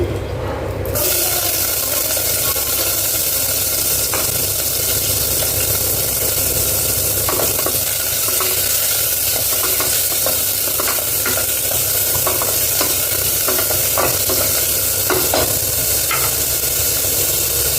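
Onions frying loudly in a pan, a steady close hiss with occasional scrape-like stirring clicks throughout, no talking.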